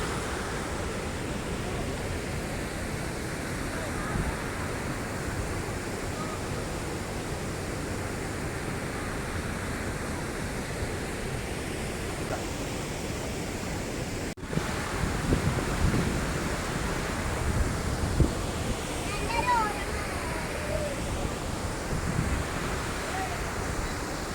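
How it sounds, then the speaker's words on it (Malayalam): Athirappilly waterfall in Kerala: a continuous, roaring wash of falling water fills the scene, loud and steady throughout, with a brief break midway and no clear speech. "Waterfalls."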